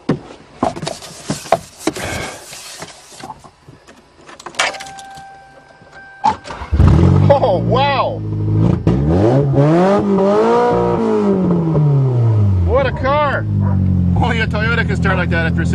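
A Toyota GTS engine, unstarted for three months, cranks, catches and starts, then revs up and down several times, loud and close, after some clicks and brief talk.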